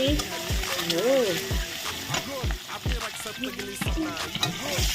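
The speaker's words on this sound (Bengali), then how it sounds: "লবণ হলুদ দিয়ে কড়া করে ভেজে নেই।" Eggs fry in hot oil seasoned with salt and turmeric, giving a steady sizzle with spatula scrapes and tapping on the pan while someone talks over it.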